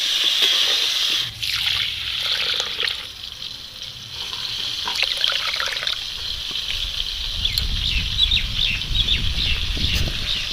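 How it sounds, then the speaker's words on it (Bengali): New-season Gobindobhog rice rinsed in water: continuous trickling and sloshing with swirling splashes, close and fairly loud, without speech. "চালটা আমি একটু ভালো করে ধুয়ে নেব"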